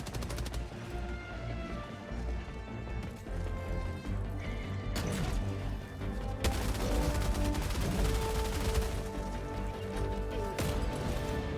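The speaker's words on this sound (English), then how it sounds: "the heavy machine gun can almost instantly destroy their green sacks when you have a clear shot" Heavy machine gun fire in the video game Helldivers 2, sustained bursts of rapid shots against enemies in a loud dense battle mix with music, no talk.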